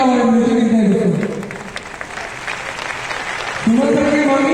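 Applause fills a hall for a few seconds, a dense wash of clapping from a crowd, framed by a loud amplified voice speaking before and after it.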